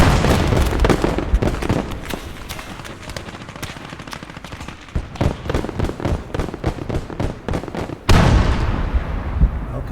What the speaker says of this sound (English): That's a mine, that's a double mine.